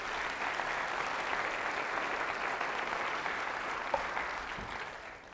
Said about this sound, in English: You ought to applaud Jesus for that.